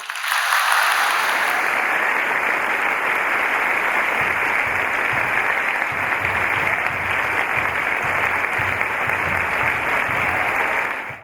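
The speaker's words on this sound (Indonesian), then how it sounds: "Mari kita sambut mereka dan kita berikan tepuk tangan yang meriah." Sustained audience applause fills a church youth-event talk show hall, steady and dense for about eleven seconds, with a faint low rhythmic thump running underneath.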